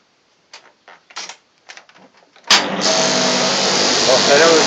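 Lawn mower engine with a freshly replaced capacitor, blade not fitted, starts abruptly after a few faint handling knocks and then runs steadily and loudly, a dense continuous roar that fills the rest of the moment.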